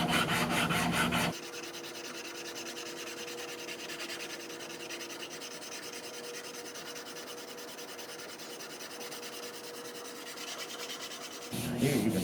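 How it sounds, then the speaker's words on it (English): A guitar neck is hand sanded with a sanding block to level high and low spots, giving a steady, continuous rasping rub for several seconds, framed by louder, harsher scraping strokes at the start and end. "I'm going to find high and low spots and even them out with my handy dandy sanding block"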